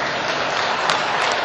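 Audience applause at a technology year-in-review talk, a brief dense patter of clapping, steady and moderately loud over about a second and a half, with no voices.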